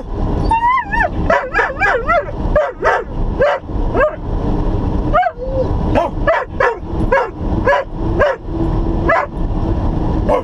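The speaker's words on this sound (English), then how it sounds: "And we're back to the barking again" A dog barks and yips repeatedly at close range inside a semi-truck cab, rapid excited barks at cows with some whining in between, continuing throughout over a low truck engine rumble.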